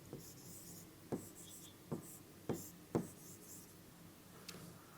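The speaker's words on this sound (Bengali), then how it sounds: "নিচে লিখলাম।" Chalk or marker strokes on a board during a physics lesson, five distinct scratchy taps and scrapes spaced about a second apart, faint in a quiet room.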